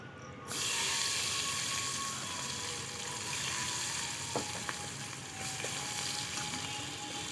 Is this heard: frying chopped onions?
yes